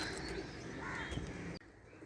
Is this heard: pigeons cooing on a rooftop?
yes